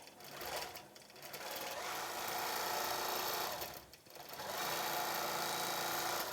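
Quilting machine stitching a freehand feather pattern on an antique chain quilt, a steady fast mechanical hum with rapid needle chatter that dips briefly twice before resuming, close and continuous.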